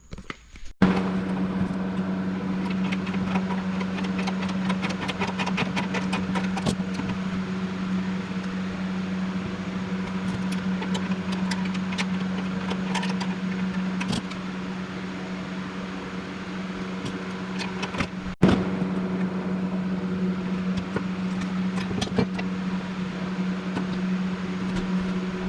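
A rebuilt old GY6 scooter engine idles steadily with a droning hum, close by and fairly loud, with a few sharp knocks and clicks over the top.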